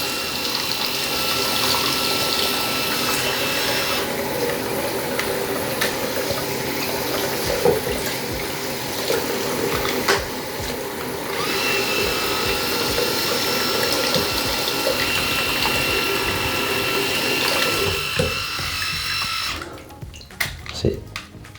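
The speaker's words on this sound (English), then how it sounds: "Switch the shaver on, run it under the tap." Steady rushing of running tap water with a faint motorized whir underneath from a MicroTouch Titanium head shaver switched on and rinsed, continuous for most of the clip before cutting off near the end.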